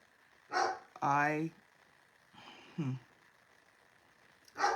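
A dog barks indoors after a doorbell rings, giving a handful of separate barks and yips with quiet pauses between them, at moderate distance.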